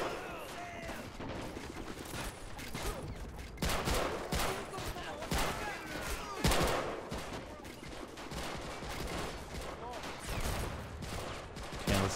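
Gunfire rages in a WWII Pacific beach-assault battle in the Rising Sun mod, with dense rifle and machine-gun bursts cracking nearly nonstop, some shots close and loud, others distant.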